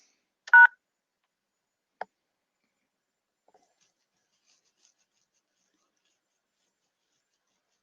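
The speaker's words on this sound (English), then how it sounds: "So we dial 1, 2," Telephone keypad dialing tones: one clear, short beep near the start, then a second, fainter and briefer beep about a second and a half later, followed by quiet.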